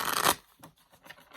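Rider-Waite-Smith tarot cards being shuffled in parts, a brief dense riffling burst up close, followed by softer scattered card rustles and taps.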